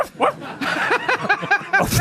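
A dog barks and yips in a quick run of short, close, sharp calls over about two seconds, with faint talk in the background of a French radio comedy show.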